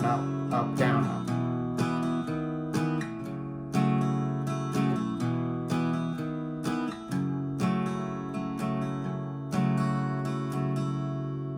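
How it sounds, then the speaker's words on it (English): An acoustic guitar is strummed in a simplified down-up pattern for a song, close and steady. Regular accented strokes repeat evenly over about ten seconds with no voice. "you can simplify it by strumming down, down, up, down, down, up, down, down, up, down, up."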